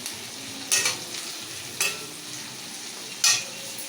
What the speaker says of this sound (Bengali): এবার একটু লাল লাল করে ভাজা হোক।